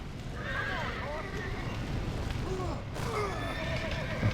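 Horses neighing and whinnying in a stable in the Red Dead Redemption video game, several drawn-out calls overlapping with hoof clops, under a steady background rumble.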